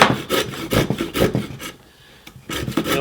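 A Silky F180 pull saw cuts through wood in rapid, rasping strokes, about ten close, loud scrapes in a steady rhythm with one short pause before the sawing resumes.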